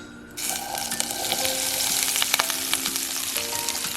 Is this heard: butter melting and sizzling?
yes